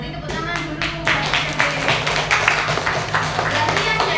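Students in a fifth-grade classroom clap together after a class vote, a crisp, rhythmic burst of hand claps that fills the room, with a voice talking over the start.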